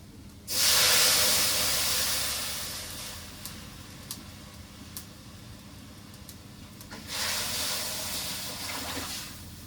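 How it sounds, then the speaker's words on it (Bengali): Lentils poured into hot oil with turmeric for a village-style curry, setting off a loud burst of sizzling hiss that fades to a steady simmer, then swells again near the end, with no talking. "এখন ডাউল ঢেলে দিই"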